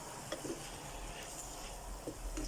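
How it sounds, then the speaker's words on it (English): Steak pie meat browns in a frying pan, giving a steady, fairly quiet sizzle with a few faint ticks and stirring touches throughout. "Now this is browning off nicely."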